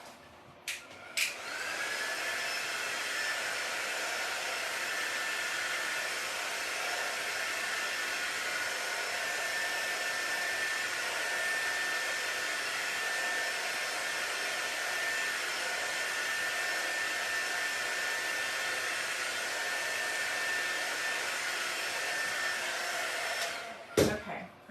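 A hair dryer runs steadily while drying a handmade black-and-white Christmas tree ornament. It is a continuous close whirring blow that lasts throughout, switched on at the start and cut off at the end.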